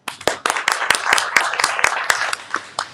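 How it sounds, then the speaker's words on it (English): A small audience gives a guest a round of applause, with distinct, uneven hand claps from a handful of people rather than a dense roar, steady and fairly close for about three seconds. "please join me and give a round of applause for our special guest"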